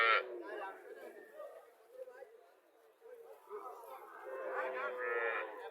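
Native cows and a calf at the Mirshani cattle market in Comilla, with lowing mixed into a busy crowd and close, continuous talk from traders and onlookers.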